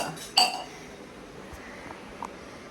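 Metal utensils being handled give one sharp, close clink early on, followed by a faint, softer tap a couple of seconds later against a quiet room background.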